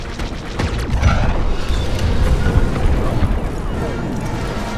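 A satellite explodes in the Star Wars Battlefront II space campaign, giving a loud, sustained rumbling blast with crackling debris that fills the whole stretch at steady volume.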